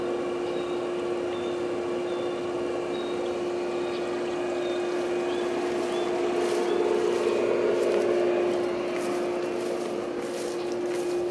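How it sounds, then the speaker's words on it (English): A Craftsman lawn mower cuts through crazy tall grass in a new yard, its engine droning steadily and close, loud and continuous throughout with a slight surge partway through. "this crazy tall grass is going to have to be done with the Craftsman"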